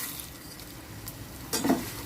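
Sesame seeds sizzle in hot tempering oil after the heat has been switched off, with a quiet frying hiss and a short, louder crackle burst as they hit the pan, alongside a faint stir.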